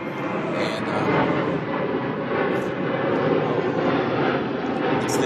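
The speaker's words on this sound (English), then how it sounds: "it's the airplane." Airplane passing overhead, a broad continuous roar of engine rumble and rushing noise holding steady at a fairly loud level, with no voices over it.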